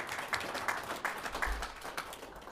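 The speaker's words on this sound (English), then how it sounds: "we owe him another round of applause" Audience at a dinner event applauding for Bob Metz, a moderate patter of clapping hands in a room, fairly even and fading slightly by the end.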